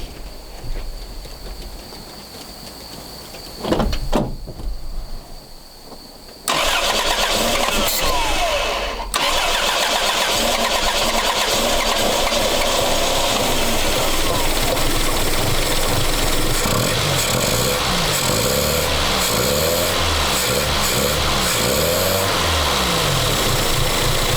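A 1984 Chrysler LeBaron with the 2.6 engine and Mikuni carburetor cranks a few times, catches and settles into a steady, loud, close idle that carries on with a slightly uneven rhythm.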